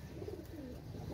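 Pakistani pigeons cooing in a loft, a soft low murmuring call rising and falling over a dense background hum, faint and continuous.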